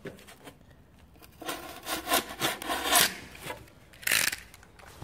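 A knife scoring a line into a Styrodur rigid foam insulation board, several rough scraping strokes in quick succession with short gaps, close and fairly loud, no speech.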